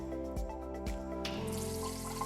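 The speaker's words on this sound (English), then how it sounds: "Once calibration is complete, test the faucet." A sensor faucet, tested right after self-calibration, switches on and water starts running into the sink, building from a couple of soft knocks into a steady hissing stream.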